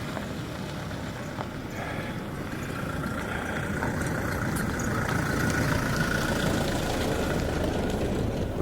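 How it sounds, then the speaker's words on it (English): On a rough mountain road in Georgia's Truso Gorge, a vehicle engine rumbles and grows slightly louder as it approaches, with a faint rattling texture over a steady low drone and no speech. "here comes a vehicle going by"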